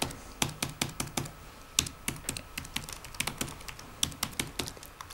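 Fingers type quickly on a computer keyboard, a steady stream of sharp, close clicks with short pauses between bursts and no voices.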